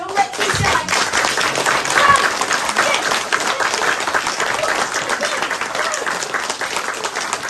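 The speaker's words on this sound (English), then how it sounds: "clap your hands" An audience at a children's Peter Pan play claims fills the room with loud, sustained hand clapping, dense and continuous, with children's voices and cheering mixed in.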